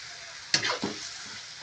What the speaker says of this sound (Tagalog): Ginisang pusit may kasamang sutanghon.